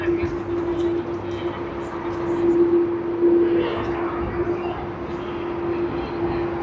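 A Vietnam Airlines Airbus A350 airliner at Sydney Airport gives off a steady, broad jet roar with a sustained engine whine. The roar swells slightly midway while a person talks over it.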